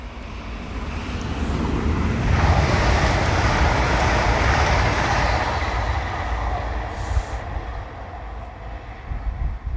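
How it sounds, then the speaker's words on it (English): A train passing on the East Coast Main Line, a broad rumbling roar that swells loud and close, holds for several seconds, then slowly eases away, with no voices. "Oh, I could hear a train."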